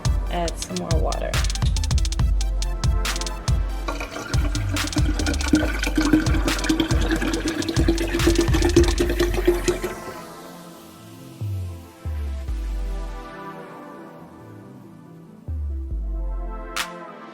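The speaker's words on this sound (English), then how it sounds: "add some more water." Water pouring into ginger detox juice in a kitchen, a loud continuous gushing stream for about ten seconds, then splashes and clatters as the pouring stops.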